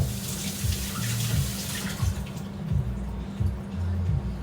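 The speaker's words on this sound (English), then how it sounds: "Let me rinse my hands." Running tap water splashes steadily as hands are rinsed at a kitchen sink during shrimp ceviche preparation, a continuous close wash of water with no talking.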